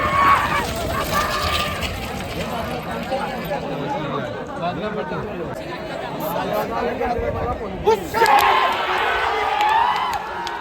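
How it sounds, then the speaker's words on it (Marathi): A crowd cheers and roars at a bailgada bullock cart race, a dense wash of shouting, whistles and excited chatter that swells and surges across the whole stretch, loud and close with overlapping voices and brief sharper yells near the end. "जल्लोष बघा काय जल्लोष"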